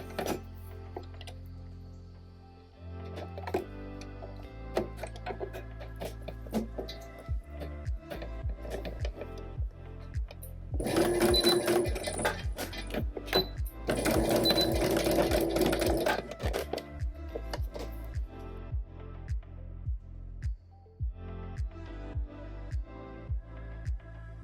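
A sewing machine stitches a shoulder seam on a tank top, with runs of rapid, close mechanical ticking and clatter broken by pauses and a brief louder burst of fast stitching in the middle.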